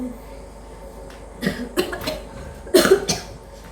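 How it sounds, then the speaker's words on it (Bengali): Several short, harsh coughs close by, a couple of single bursts followed by a louder cluster of rapid coughs near the end. "কাশি হচ্ছে"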